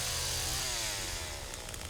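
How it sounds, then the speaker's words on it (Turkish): A chainsaw revs up in The Texas Chain Saw Massacre video game, giving a loud, steady motor drone with a rising, wavering pitch that runs for the whole stretch without any talking. "Şimdi testereyi açıyorum öncelikle."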